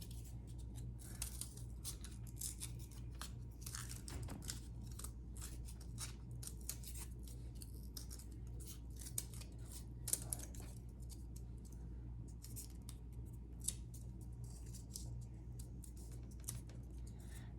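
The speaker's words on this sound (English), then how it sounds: "Now I take another piece of cardboard and I can cut a shape out of it." Scissors snipping through cardboard while a heart shape is cut out, giving a steady run of small crisp cuts and rustles over a constant low background hum, quiet and close.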